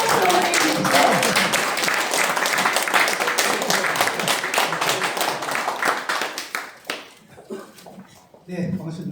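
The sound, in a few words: audience applause welcoming the chairman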